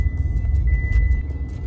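Car engine rumbling steadily up close as a learner driver gently presses the accelerator, a low continuous drone with slight surges and no talk.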